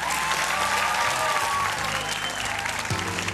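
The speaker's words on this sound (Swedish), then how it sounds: "De är värda en bra applåd om också." Studio audience applauding on a Swedish bingo lottery TV show as five finalists are introduced at the prize wheel, a dense, steady burst of clapping throughout, loud and close with no talk over it.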